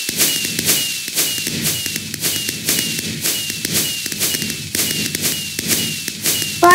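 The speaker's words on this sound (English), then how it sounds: "Fireworks." Minecraft fireworks from a Mineplex mini game go off in a steady run of sharp, crackling pops and bangs, about two bursts per second, loud and close throughout with no talking.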